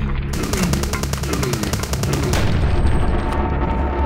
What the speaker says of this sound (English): What is what is shooting us? I think it's a turret.